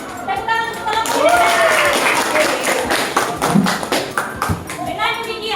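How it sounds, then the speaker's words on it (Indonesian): Students in a high school biology class applauding a group, a dense patter of claps with scattered sharp hits and overlapping voices, close and moderately loud. "Tepuk tangan untuk kelompok."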